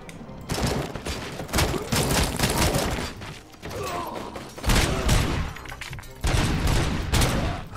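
Repeated pistol gunfire from the video game RoboCop: Rogue City, loud close shots in uneven bursts with mechanical clatter between them.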